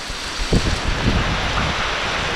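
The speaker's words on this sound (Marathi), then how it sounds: "गावाकडे म्हणजे पाऊस एकदम तुफान चालू झाला आहे" Heavy monsoon rain pouring in a village yard, a dense, loud, steady roar with gusty rumbling underneath; no one speaks.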